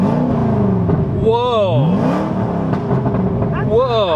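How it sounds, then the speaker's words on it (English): A Rolls-Royce engine fitted with a new exhaust revs up and falls back twice in quick bursts, close and loud, while a person exclaims over it. "Let's rev the rolls, here we go."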